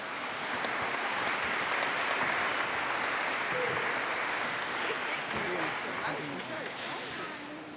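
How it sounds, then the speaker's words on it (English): A large crowd at a school assembly claps steadily in a dense, continuous wash of applause that holds for several seconds before easing slightly. "let's give everybody a big round of applause"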